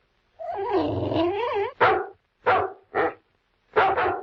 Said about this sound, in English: complained about the persistent barking of Kimball's dog